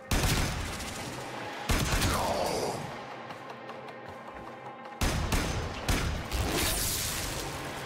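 Gunfire in the video game Warframe, a few loud sharp sniper-rifle shots with broadband bursts near the start, around two seconds and around five seconds, against a steady background of game noise and no talk.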